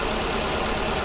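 A VW Polo 1.4 engine idling with a misfire, shuddering hard: a steady, dense broadband engine drone with a rough, uneven low rumble, close and continuous with no voices.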